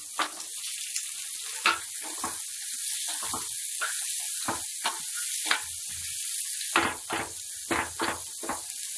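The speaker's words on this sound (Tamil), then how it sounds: "வெங்காயம் போட்டுக்கிறேன்." Onions fry in oil in a kadai for a chicken varuval, a constant sizzle broken by repeated scraping stirs of a spoon against the pan, close and clear.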